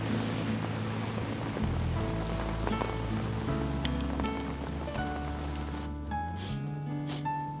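Steady rain patters on surfaces at night, a dense continuous hiss of drops running under soft, low background music with no voices.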